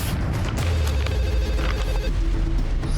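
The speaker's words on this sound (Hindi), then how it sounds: "देखो किसका फोन।" A telephone rings repeatedly in a TV crime-drama police scene, its bell close and insistent over a dense, busy background with no speech.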